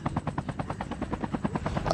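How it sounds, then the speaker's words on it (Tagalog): A drone in Call of Duty Mobile flies close overhead, a loud rapid rhythmic chopping buzz with steady pulsing beats that swells slightly toward the end, with no voices. "bakit may drone dyan?"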